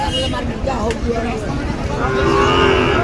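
Sahiwal cattle at a busy rural cattle market in Dinajpur give low mooing calls amid a murmur of crowd chatter and nearby voices, the lowing rising and sustained toward the end.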